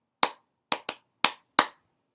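Five sharp hand claps ring out in an uneven pattern, two close together then three spaced apart, loud and close with silence between, the rhythm of a protest song being taught.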